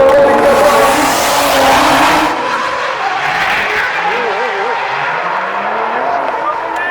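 Cars drifting at the SDC Drift event in Čačak, 2018: a loud burst of engine roar and broadband tire noise in the first couple of seconds, then fading into a steadier engine drone with squealing tire tones and a voice talking over it.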